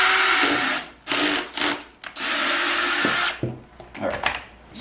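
Power drill boring a hole through the bottom of a plastic tray on a Dig Dug Arcade1Up cabinet, loud whirring bursts starting and stopping several times, close up, with brief pauses between runs.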